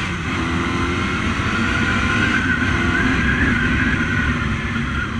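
A continuous, loud engine drone with rushing wind, like a motorcycle riding at steady speed, its tone shifting slightly as it revs.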